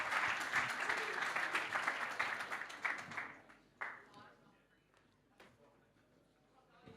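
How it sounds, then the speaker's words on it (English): Audience applause for a panel at a crypto and finance conference, fairly loud clapping for about three seconds that fades quickly into a quieter room with scattered sounds and possible talk. "ladies and gentlemen, a round of applause for your panelists."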